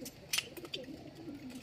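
Pigeons coo softly in low, murmuring calls at a distance, faint and continuous against light background noise.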